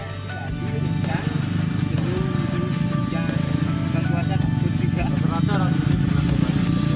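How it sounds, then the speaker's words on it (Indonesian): A motorcycle engine drones steadily and loudly throughout, with shifting revs, riding fast over slippery dirt near Sembalun on Mount Rinjani, Lombok, with some talking in the background. "laju motor yang begitu kencang melewati barisan tanah yang cukup licin"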